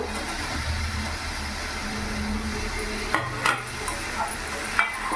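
Sliced onion and tomato fry in a pan with silver carp, a continuous sizzle under a low background hum, with several scraping and clacking stirs of a spoon toward the end.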